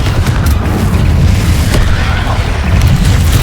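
A Confringo fire spell from Hogwarts Legacy bursts in a loud, sustained booming explosion that fills the whole moment with a dense, rumbling roar.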